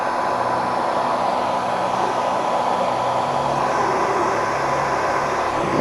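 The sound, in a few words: dryer blowing to dry a plastic motorcycle part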